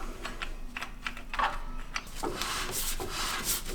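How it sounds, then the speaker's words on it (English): Clicking of a Toyota Troopy's handbrake shoe adjuster being backed off, a few faint, close ratcheting ticks and rubs, with no voices. "we'll back it off 3 clicks and recheck it from there"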